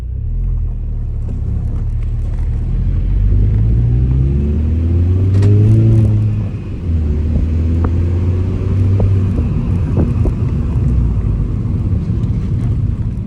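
A car with a freshly replaced clutch drives around the block, its engine rumbling loud and close as it accelerates through gears, pitch rising and dropping with each shift before settling into a steady cruise.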